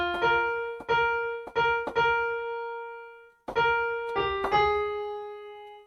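Electronic keyboard notes from a piano lesson on a song, played alone and close: about seven separate struck notes in two groups with a pause between, each ringing with a clean sustained tone.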